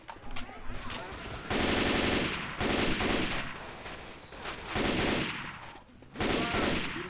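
Sustained automatic gunfire rattles in Left 4 Dead 2, long dense bursts broken by short gaps, loud and close with chaotic game noise underneath.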